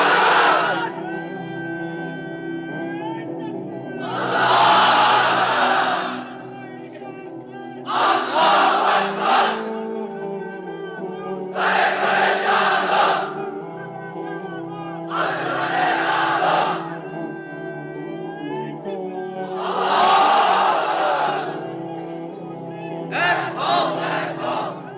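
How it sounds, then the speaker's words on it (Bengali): A large crowd of unmarried men at a religious gathering roars the takbir chant in repeated bursts, each loud group shout followed by a pause, with continuous background hum between. "এবার অবিবাহিতরা দাও লিল্লাহি তাকবীর"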